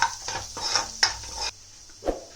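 Chopped garlic fries in a pan for a pasta sauce, with a few quick scraping stirs and a soft sizzle, close and short with no talking.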